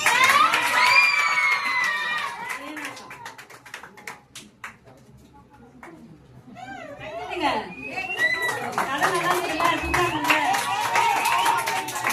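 Children at a Vacation Bible School final-day gathering in a church clap and cheer with high-pitched shouts, the noise briefly thinning in the middle before rising again, while an adult talks over the crowd.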